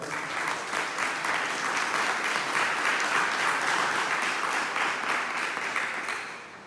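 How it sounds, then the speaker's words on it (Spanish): Loud, sustained audience applause at a club's centenary magazine launch evening, many hands clapping in a thick, steady wash that tapers off slightly at the end. "Fuerte el aplauso."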